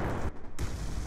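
A sticky grenade detonates in the video game Call of Duty Black Ops 2, heard as a loud, muffled, rumbling blast with a brief dip, filling the short moment.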